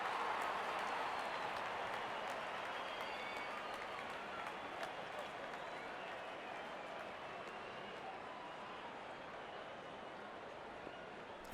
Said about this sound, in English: crowd is enjoying every bit of this action.